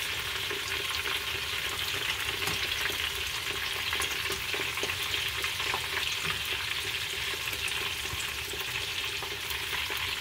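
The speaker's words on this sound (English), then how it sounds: "So the green beans actually look like they are cooking faster than the rest." Green bean tempura deep frying in oil, a dense, continuous bubbling sizzle that holds steady and close throughout.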